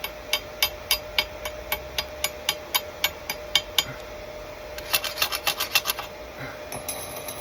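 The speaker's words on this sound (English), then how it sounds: "This is the slag at the moment, but we'll just chip it off." Slag being chipped off a fresh spot weld on metal with a chipping hammer: a steady series of sharp, close metallic taps, about two per second, quickening into a faster burst of strikes near the end, with no talk.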